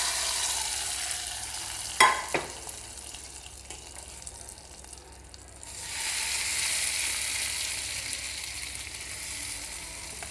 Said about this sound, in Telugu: ఇప్పుడు ఈ పోపు ఇందులో వేసేసుకుందామా.